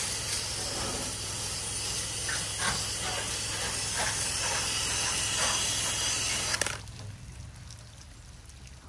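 A steady, loud hiss of a pressure washer spraying a house wall continues for several seconds, then stops abruptly, leaving quieter background noise.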